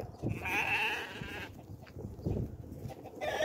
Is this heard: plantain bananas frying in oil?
no